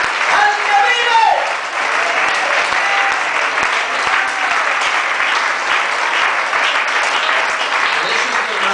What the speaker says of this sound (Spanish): Denle un aplauso fuerte al que vive